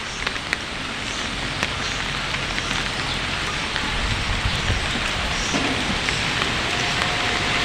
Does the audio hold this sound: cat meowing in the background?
no